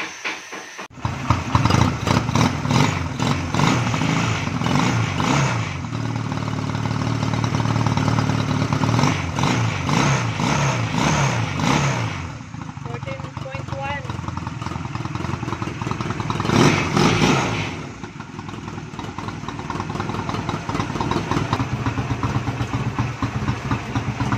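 A Honda Rebel 250 motorcycle engine, newly running after a rewound stator and a new regulator, idles and revs in close, steady bursts with uneven throttle surges, then settles into a rougher, quieter run.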